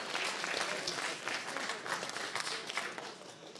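An audience applauds after a fight at a Makhach fight show, steady dense clapping from a crowd that continues throughout, moderately distant, with faint voices mixed in.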